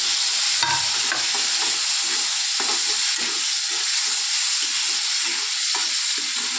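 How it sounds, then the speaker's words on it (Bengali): Ghee bitter gourd and spices fry in oil, a loud continuous hiss and sizzle with a rhythmic series of scraping stirs of the spatula against the pan, close and without speech. "এবার তেলের মধ্যে তোমার হচ্ছে এই যে ঘি করলাটা দিয়ে দেবো আর মশলাটা দিয়ে দেবো দিয়ে কষিয়ে নেব"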